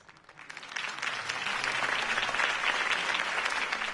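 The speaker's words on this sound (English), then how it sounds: "could have heard that applause" Crowd in the Batman Telltale game breaking into applause after Harvey Dent's campaign speech, clapping swelling within the first second and then holding steady and dense to the end.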